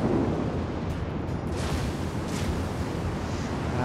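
Naval gunfire strikes a battleship in the World of Warships video game, a continuous heavy rumbling roar with faint bursts layered through it, loud and sustained the whole time.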